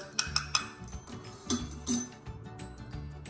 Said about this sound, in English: So I'm going to put it in this bowl